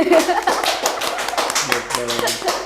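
A small group claps in short, uneven bursts during a casual talk-show conversation, the scattered hand strikes close and fairly loud, with voices talking over them as it fades.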